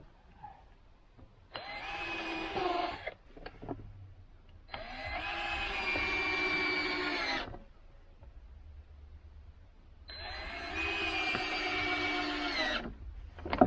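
A cordless power drill drives screws into a wooden deck in three separate whirring bursts, each a couple of seconds long, with quiet pauses between them.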